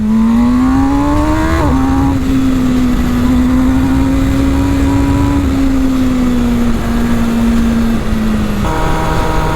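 MV Agusta Brutale 1000 RR motorcycle engine at full throttle climbing past 8000 rpm, a loud, sustained high-pitched howl that rises, dips at a gear change, holds, then drops as revs fall.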